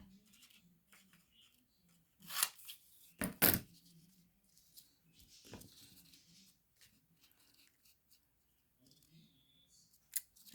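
Scissors cutting paper for a craft project, a few short snips and rustles heard close up and fairly faint against a quiet room.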